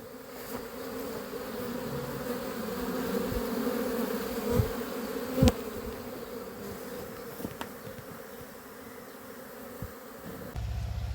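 Honeybees buzz around four beehives, giving a steady, dense drone, with occasional louder passes of single bees flying close by.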